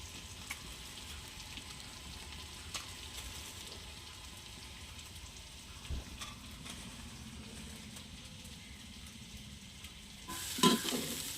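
Chicken half-fried in a pan for Kerala-style chicken perattu with dried red chilies, a steady close sizzle of hot oil with occasional stirring clinks, and a louder burst of frying near the end.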